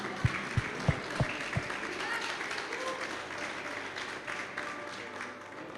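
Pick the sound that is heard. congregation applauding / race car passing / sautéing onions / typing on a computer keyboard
congregation applauding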